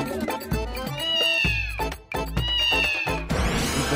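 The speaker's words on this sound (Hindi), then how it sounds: "बेडरूम से बिल्ली की आवाज आ रही थी" A cat meows loudly several times in long, drawn-out wails from a bedroom, close by with no talking.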